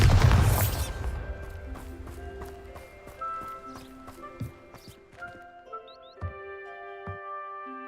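A Bombarda explosion spell in Hogwarts Legacy: a loud boom at the start that fades quickly, then scattered clicks, thuds and chiming magical tones from the game.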